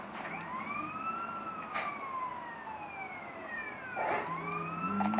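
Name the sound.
police and ambulance sirens in GTA San Andreas video game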